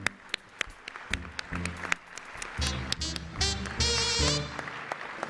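An audience applauds a panel at a roast honoring Dr. Edward Benz, with fairly loud clapping that builds and swells over several seconds alongside a few cheers and whoops.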